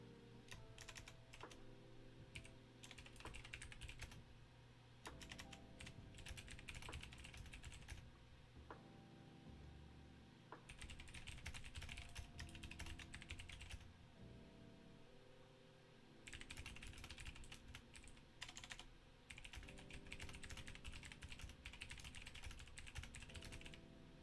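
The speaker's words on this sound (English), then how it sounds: "you already started typing" Typing on a computer keyboard in steady bursts of rapid key clicks separated by short pauses, faint and close, with no talk.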